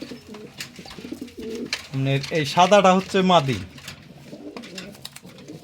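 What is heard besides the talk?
racing pigeons cooing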